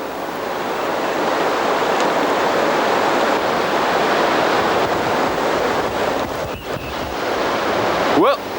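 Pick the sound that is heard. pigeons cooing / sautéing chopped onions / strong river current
strong river current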